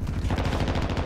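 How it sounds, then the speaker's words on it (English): Rapid video game gunfire rattles out in a tight, loud burst of quick repeated shots, close and with no voices over it. "I'm getting shot at in the back."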